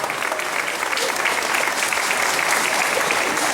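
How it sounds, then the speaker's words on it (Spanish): A crowd claps at a nighttime Grito de Independencia ceremony in Santa Fe de la Laguna, Michoacán, with dense, sustained applause at a steady level, fairly close and loud. "Vamos a brindarles un fuerte aplauso."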